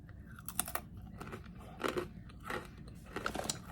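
Crunchy hard gluten-free pretzels are chewed close to the mic, giving several quiet bursts of crisp crunching in an uneven rhythm, with no talking.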